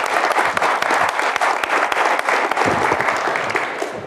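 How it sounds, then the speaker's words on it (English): Warm applause from a street hypnosis show audience, steady clapping for a volunteer heading up, with a few sharper individual claps standing out and tapering slightly at the close. "give her a nice round of applause"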